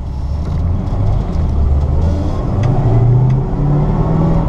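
A 1968 Ford Mustang GT/CS California Special with a big-block engine and four-speed drives along, its deep, loud engine rumble steady and close with slight rises in revs throughout.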